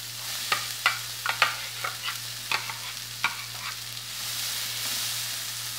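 Onion and bell pepper fry in a pan, stirred with a run of quick scraping clicks over a low hiss, then the stirring stops and the sizzle swells steadily on its own.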